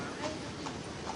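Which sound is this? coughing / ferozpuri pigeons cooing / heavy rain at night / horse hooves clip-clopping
horse hooves clip-clopping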